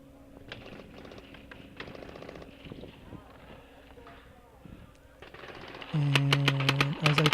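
Paintball gun shots from a pump-action paintball marker during a woodsball game, a few scattered pops early on, then a sharp burst of rapid repeated cracks near the end, loud and close over outdoor ambience and movement.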